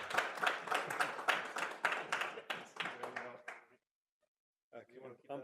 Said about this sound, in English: let's give a round of applause for Tron